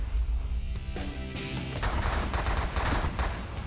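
Weapons and missiles fire in a space battle in The Last Federation, a dense, loud barrage of rapid bursts and blasts that runs without pause, with no talking.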